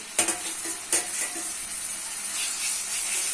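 Soaked onions dropped into hot soybean oil in a kadai burst into a loud, steady sizzle, with a few sharp metallic stirring clinks early on and a continuous hiss throughout.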